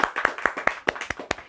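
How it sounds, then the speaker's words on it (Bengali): Audience clapping for the winners of a children's pranam mantra recitation competition: a short run of about eight sharp, evenly spaced hand claps, fairly close and clear, with no other sound. "সবার জন্য হাততালি।"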